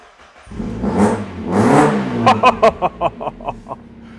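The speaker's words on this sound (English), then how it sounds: "A Cobalt exhaust. You heard the rasp." A Mazda MX-5 with a Cobalt catback exhaust revs up in two long swells, then a rapid string of sharp, raspy exhaust blips, loud and close.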